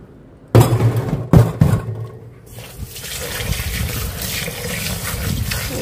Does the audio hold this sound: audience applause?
no